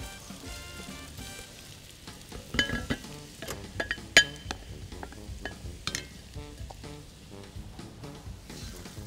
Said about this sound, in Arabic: رح نقلي العدس شوي صغيرة